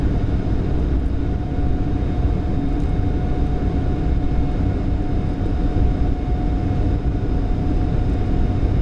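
Boeing 747-8F cargo jet engines at takeoff thrust out of Frankfurt, a loud, steady, dense roar with a faint tonal hum, heard continuously from on board with no talking.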